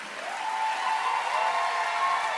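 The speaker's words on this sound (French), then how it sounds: "Vous pouvez les applaudir bien fort." Applause for the twelve candidates at the Miss Martinique 2024 pageant, a steady wash of distant crowd clapping under a sustained tone, fairly faint and even throughout.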